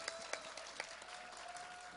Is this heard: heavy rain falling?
no